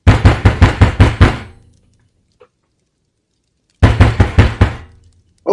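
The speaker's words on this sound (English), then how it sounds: "A loud knock is heard at the door." A loud, hard knocking on a door: a rapid burst of about six heavy raps, a pause of silence, then another burst of about five, close and sharp with no other sound.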